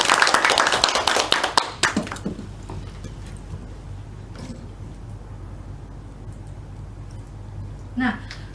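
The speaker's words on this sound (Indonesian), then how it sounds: "Kasih aplaus teman-teman" Classmates applaud in a classroom, a burst of clapping that fades within about two seconds and is followed by quieter room sounds with a brief later noise.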